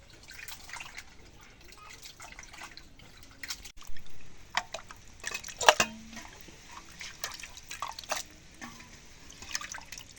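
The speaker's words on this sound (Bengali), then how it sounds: "এখন মাংসটা কাটা আছে, এখন ধুয়ে নেই।" Cut goat meat rinsed by hand in water for a home-cooked curry, with soft irregular splashes, drips and trickles, near and fairly quiet, a few sharper sloshes in the middle.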